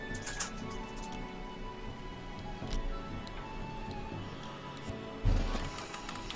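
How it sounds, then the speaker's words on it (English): Battle audio from the video game Windward, a busy low-level jumble of clanks, ticks and scattered impacts, with one heavier thud near the end, fairly quiet and continuous. "That's the sound of battle?"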